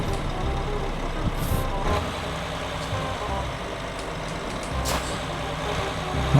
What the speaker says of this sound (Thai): เสียงลากเกียร์นี่สนั่นเลยนะ